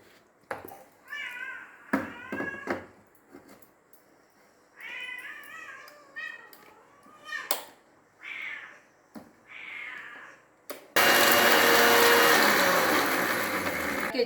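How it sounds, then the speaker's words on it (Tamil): A kitchen mixer grinder whirs loudly and steadily as it grinds onion, tomato and asafoetida into chutney, starting abruptly after a cat meows several times nearby. "வெங்காயம் தக்காளி பெருங்காயம் எல்லாத்தையும் ஒன்றா போட்டு நல்லா மையாக அரைச்சிட வேண்டியதுதான்"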